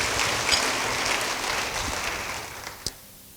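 Church congregation clapping for a few seconds in a moderately loud, hissing wash that fades out, ending on a single sharp clap.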